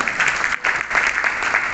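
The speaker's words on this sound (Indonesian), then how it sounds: "tepuk tangan" An audience at an Indonesian public gathering with a regional head present breaks into steady, loud applause, dense clapping that carries on throughout with a brief dip midway.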